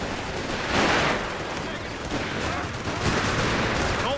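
Wehrmacht Grenadiers fire rifles in Company of Heroes 3 during a 3vs3 battle, a dense, continuous rattle of distant gunfire and battle noise with soldiers' voices shouting over it.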